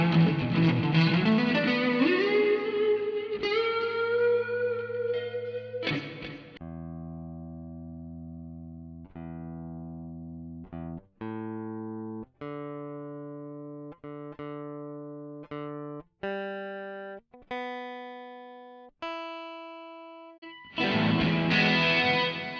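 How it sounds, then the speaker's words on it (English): Schecter Omen Extreme 6 electric guitar played through heavy distortion, opening with a thick sustained riff and bend, then a run of single picked notes ringing out one after another, ending in another dense distorted burst. "The Schecter Omen Extreme 6 is a great guitar for those who need heavy distortion without ruining the sound"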